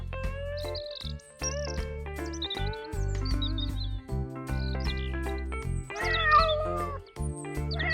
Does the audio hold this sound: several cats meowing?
yes